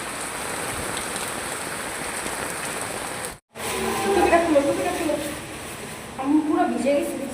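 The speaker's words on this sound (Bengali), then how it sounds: "বৃষ্টি নামছে, দেখেন, বুঝছেন? অনেক বৃষ্টি নামছে।" Heavy monsoon rain pours down in a continuous hissing wash, broken by a short gap, with a person talking over it in the later part.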